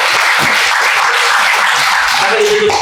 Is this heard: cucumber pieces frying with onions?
no